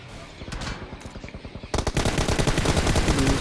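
Rapid automatic gunfire rattles in a battle royale shooter, starting in moderate bursts and then turning into a louder, denser continuous stream of shots.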